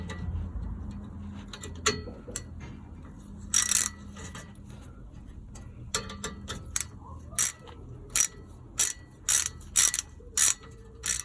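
Ratchet wrench undoing the exhaust fixings on a Citroen 2CV, with a series of sharp clicking bursts close by, spaced out over a low background hum.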